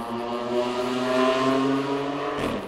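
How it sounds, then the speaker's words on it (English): A car engine revs steadily with strong harmonic drone, holding pitch then dropping near the end as it drives off, loud and close with no talk. "He had a car, as you could tell."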